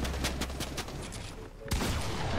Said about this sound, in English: Oh, he gets shot from behind.